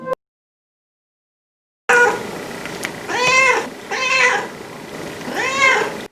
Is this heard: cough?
no